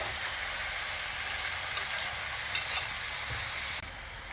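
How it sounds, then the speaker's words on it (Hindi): Mutton pieces frying with onions in a pan, a steady broadband sizzle with light stirring scrapes, continuous and close, no voices. "मटन को हमने प्याजों के साथ फ्राई करना है।"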